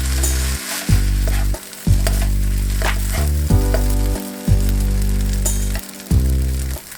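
Shrimp fried rice seasoned with Chinese five spice sizzling loudly in a pan while being stirred and tossed, a constant frying crackle broken by several short scraping stirs, with no talk.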